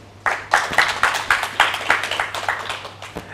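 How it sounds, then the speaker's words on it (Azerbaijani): Studio audience on a talk show breaks into steady applause, a close, even patter of many hands clapping together that keeps going for the full length. "Buyurun, alqışlayın."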